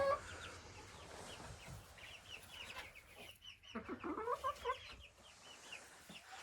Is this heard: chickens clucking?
yes